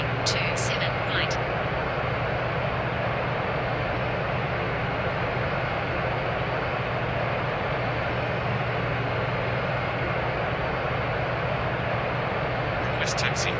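Airbus A350-1000 jet engines hum in a steady, loud broadband roar during taxi at London Heathrow, with a constant low drone throughout and brief beeps near the start and end.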